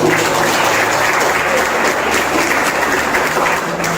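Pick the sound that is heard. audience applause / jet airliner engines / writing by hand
audience applause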